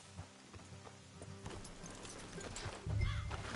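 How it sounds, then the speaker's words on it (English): Horses in the Red Dead Redemption 2 video game, with hoof clops and a snort or whinny rising near the end over a low ambient game soundscape, no talk. "Let's leave the horses here and go the rest on foot."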